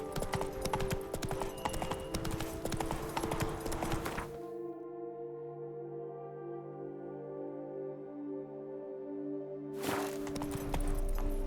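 Roach, the horse in The Witcher 3: Wild Hunt, gallops in rapid, busy hoofbeats over game ambience. The hooves drop out for several seconds, leaving sustained tones, then the galloping returns.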